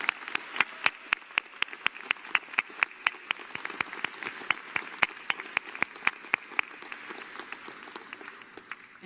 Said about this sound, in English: a big round of applause for family and friends that helped all of us through